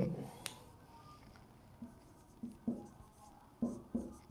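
A teacher's pen or chalk makes soft, scattered scratches and taps on a board during an economics lesson, with short strokes at irregular intervals and quiet room noise between them.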